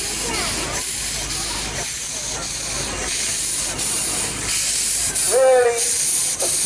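A steam traction engine at a steam rally vents steam in a steady, loud broadband hiss that continues throughout, with someone talking over it partway.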